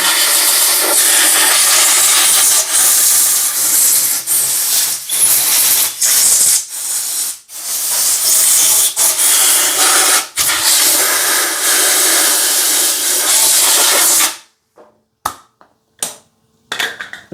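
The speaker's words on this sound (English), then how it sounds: "I got some compressed air. Just going to blow this out a little bit." Compressed air hisses loudly and steadily out of a nozzle while cleaning out a Jeep Cherokee differential, with brief breaks, then ends in short sharp bursts.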